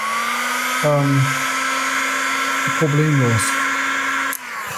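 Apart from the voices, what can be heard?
hair dryer drying paint on leather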